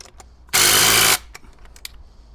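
A power driver sends a bolt into an antenna mast support in a single loud burst of about half a second, set between quieter clicks and handling noises.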